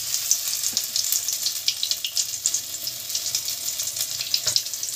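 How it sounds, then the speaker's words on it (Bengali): Bhetki fish fingers dipped in batter and breadcrumbs fry in hot oil, a steady, close, crackling sizzle that carries on without pause. "চলুন তেল গরম হয়ে গেছে, আমরা এবার এগুলো ভেজে নিই।"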